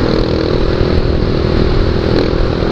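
A Skygo Boss 150cc motorcycle engine runs at a steady idle, close and loud, with a constant buzzing drone and no revving or talking.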